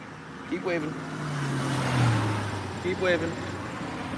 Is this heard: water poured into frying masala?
no